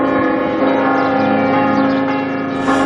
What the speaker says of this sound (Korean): 종을 12시가 되면 종을 다 쳐요.